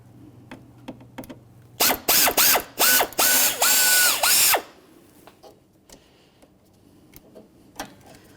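A power driver spins out a grille trim molding screw on a 2003-2007 Honda Accord in a rapid run of five or six short, loud whirring pulses, followed by quieter clicks and handling noises.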